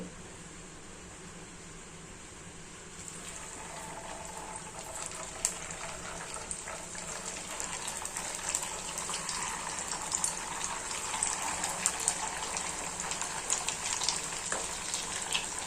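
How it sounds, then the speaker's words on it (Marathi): Thick poha snack mixture dropped into hot oil, frying with a steady hiss that swells into a louder, bubbling sizzle over time, close and continuous with no talk. "आता मी तेलामध्ये डिश सोडत आहे"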